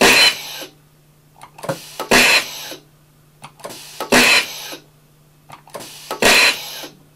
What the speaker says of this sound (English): You simply tap the foot switch and the firing sequence starts.